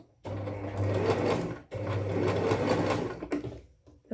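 A sewing machine stitches darts in fabric with two steady, loud runs of rapid whirring, separated by a short pause, then slows to a few uneven stops near the end.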